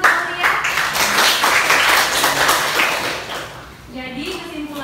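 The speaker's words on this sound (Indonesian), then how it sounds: "Tepuk tangan untuk Aulia." Classroom of students applauding for a classmate named Aulia, a short burst of scattered clapping that fades, followed by a teacher's voice.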